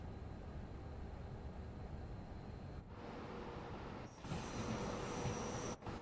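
Virgin Pendolino train in Train Sim World 5 slowing into the platform at London Euston: a steady low rumble of wheels and running gear throughout, with brief dips and a louder rush toward the end, no voices.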